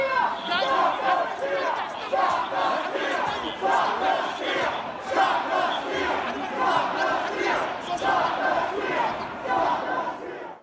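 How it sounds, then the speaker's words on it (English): A large rally crowd chants "Stop the steal" in loud, repeated rhythmic waves of massed voices that rise and fall steadily for the whole stretch. "You heard them chanting, "Stop the steal.""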